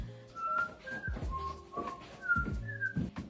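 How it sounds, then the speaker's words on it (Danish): Someone whistles the tune Frère Jacques in a clear, close melody of short sustained notes, with soft knocking and handling noises in the background. "Hvis I kunne høre det, så er det Mester Jakob, jeg fløjtede."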